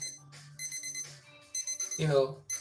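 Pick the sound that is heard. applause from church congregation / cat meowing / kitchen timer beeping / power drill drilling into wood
kitchen timer beeping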